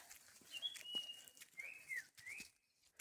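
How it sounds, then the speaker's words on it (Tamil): A small bird whistles a few thin, high, drawn-out notes, some sliding downward, against faint outdoor background noise. "குருவிகளோட ஓசையை கேளுங்களேன்"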